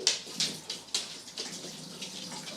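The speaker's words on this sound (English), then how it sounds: "I'm going to wash my hands now." Hands washed under a running tap in a home kitchen, with close splashing water broken into repeated bursts as the hands rub and move under the stream, fairly loud and with no talk.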